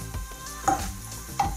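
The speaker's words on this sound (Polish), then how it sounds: "Teraz na patelni podsmażę sobie cebulkę." Soft sizzling of onion frying in a pan, with a couple of brief scraping stirs and clinks against the pan.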